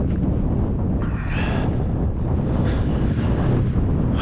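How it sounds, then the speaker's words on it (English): Strong headwind buffets the microphone outdoors during a test run of a Scorched Parts SR-1 speedrun RC car with a single TP motor and ONYX LiPo batteries, a steady loud roar with gusty swells throughout, no talking. "it's a pretty strong headwind there, so it is"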